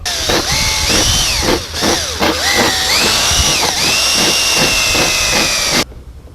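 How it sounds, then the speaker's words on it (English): A power drill with a 1/8 inch bit bores out three rivets in a 3-inch-wide hinge during a cowling installation. The motor whines loudly and steadily up close, its pitch sliding up and down as the bit bites in and frees in repeated bursts, then stops abruptly. "So if somebody wants to drill these 3 out with 1/8 of an inch."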